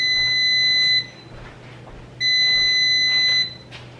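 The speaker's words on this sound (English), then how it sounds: "you hear the timer going off" A kitchen cooking timer sounds two loud, steady electronic beeping bursts, each about a second long with a pause between, close and clear over a low background hum.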